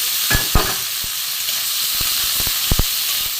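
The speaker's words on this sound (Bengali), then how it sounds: "গরম মশলার গুঁড়ো দিয়ে দিয়েছি দিয়ে আমি একটুখানি কষিয়ে নেব" Boiled cauliflower and potatoes sautéing in a pan with garam masala powder and ginger, a loud continuous hissing sizzle broken by several quick knocks and scrapes of a stirring spoon, close up with no talking.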